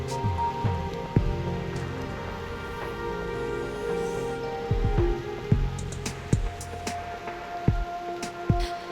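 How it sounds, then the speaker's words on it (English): Heavy rain in the video game Reverse: 1999 patters continuously over a low rumbling ambience, with scattered sharper drops and knocks standing out. "The rain is making too much noise."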